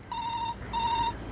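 A telephone rings in a family home during dinner, two clear electronic ring bursts with a short gap between them, steady and fairly close, with no talk over it.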